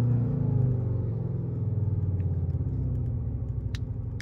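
A 2021 Škoda Octavia RS engine hums steadily at close range, its low rumble rising and falling slightly as if lightly revved, with a few faint clicks near the end.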